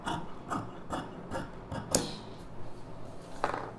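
Scissors snip through blouse fabric in a steady series of about eight sharp, close cuts spaced roughly half a second apart, quiet and otherwise alone.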